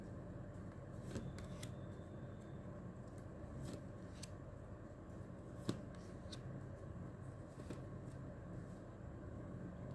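A deck of playing cards is shuffled close by, quiet riffling bursts and sharp snaps scattered over a faint hum, with no talking.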